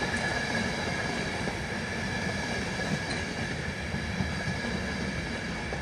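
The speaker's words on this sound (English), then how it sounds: "And they are about to stop at Northallerton on platform 1." An electric passenger train rolls along the platform at Northallerton station in the dark as it slows to stop, giving a steady rumble of wheels on rails with a faint high whine and no talk.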